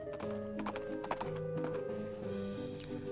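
Horse hooves clop in the West of Loathing video game as a cowpoke tries to ride her horse up a steep rocky ridge, with a steady run of soft knocking steps layered over a quiet game music bed.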